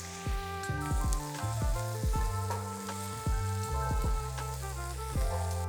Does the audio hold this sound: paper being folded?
no